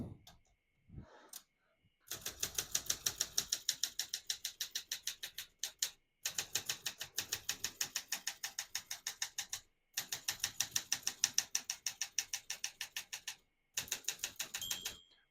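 Keys clatter in rapid bursts on a 1968 Olympia SM9 vintage portable typewriter, dense runs of sharp mechanical clicks broken by short pauses, close and alone with no talking.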